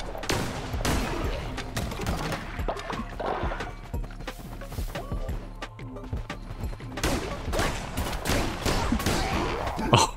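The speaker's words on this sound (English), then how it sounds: "Oh, it's like a sniper shot." Rapid, sharp gunshot-like cracks from a sniper-shot power attack in the video game Cult of the Lamb, firing repeatedly in bursts over busy game sounds and music, with a voice talking at times.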